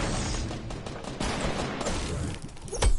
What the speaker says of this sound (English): Keep on fire, just keep on firing.